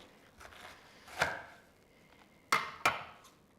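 A knife chops through half of a large cabbage, with three crisp, close thuds against the board, the last two coming in quick succession after a soft earlier cut.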